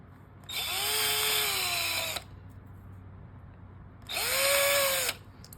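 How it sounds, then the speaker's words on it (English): A power drill enlarges holes in a chassis plate for a Formula R1 front install, running in two loud, steady bursts of about one and a half seconds and one second, each with a whining pitch that rises as the bit spins up, separated by a quiet pause. "all you basically have to do is take your drill,"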